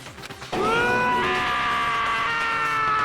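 Scream in the Danganronpa: Trigger-Happy Havoc video game: after a short rustle, a single loud, sustained high-pitched scream begins abruptly and holds steady for several seconds, close and alone.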